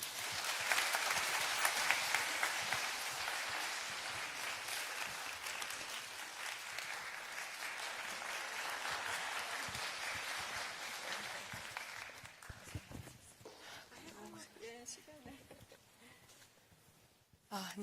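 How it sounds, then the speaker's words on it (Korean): Applause from an audience at a Korean humanities lecture hall welcomes two discussion speakers to the stage, a dense sustained clapping that tapers off after about twelve seconds. "대담자 두 분을 박수로 단상으로 모시겠습니다"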